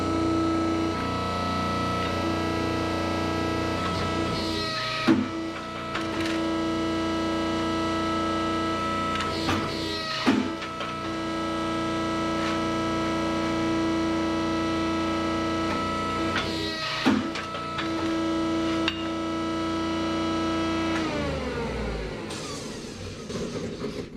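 A machine stamps and presses a console panel for a Ferrari 914 build, with a steady mechanical hum and tonal drone broken by brief clunks every few seconds as the panel is walked through.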